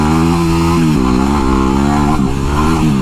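Dirt bike engine revving hard while riding at night, a loud continuous buzzing drone with pitch rising and dipping as the throttle shifts through short revs.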